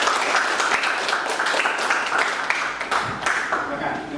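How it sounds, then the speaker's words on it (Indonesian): A classroom audience applauds group 1 with a burst of steady, fairly close clapping from many hands that continues throughout. "Kasih aplaus untuk kelompok 1."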